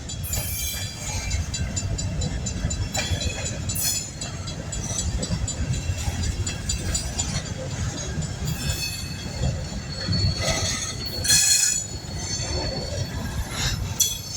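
A long coal train rolling through Mount Hope, West Virginia, a continuous rumble of wagons with high metallic wheel squeals and screeches rising now and then, heard from nearby outdoors and without speech.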